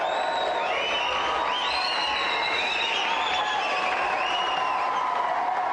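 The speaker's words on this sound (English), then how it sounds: "let's have a big round of applause for our winner, Steve, the man." A television game show studio audience applauds and cheers the winner, a dense continuous wash of clapping with whoops and shouts throughout.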